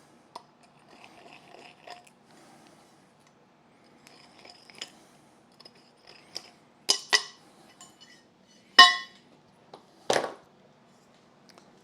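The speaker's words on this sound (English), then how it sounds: "I have a little bit of a deburring tool" Small scraping and clicking touches from a hand deburring tool working the drilled holes in a crossbar, quiet and intermittent, with a few sharper scrapes and clicks toward the end.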